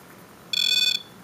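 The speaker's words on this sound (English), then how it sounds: "Watch, if I hold the camera up next to it, it starts beeping." A REM pod ghost-hunting sensor sounds off in a single bright electronic beep lasting about half a second, sharp and close against a quiet background.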